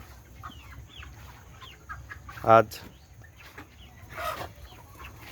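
Broiler chickens on a poultry farm cluck and call in scattered bursts over a steady low flock murmur, with one louder nearby squawk midway and another call near the end; a brief word of speech is heard.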